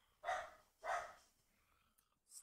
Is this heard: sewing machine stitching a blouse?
no